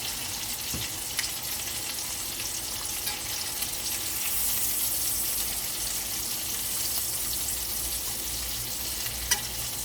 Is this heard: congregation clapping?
no